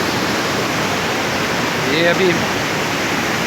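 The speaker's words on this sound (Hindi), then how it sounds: "ये अभी ये दरिया ये सीधा दरिया है" A river near Batkhela, Pakistan flows in a loud, steady broadband rush that stays constant throughout, with someone speaking briefly over it.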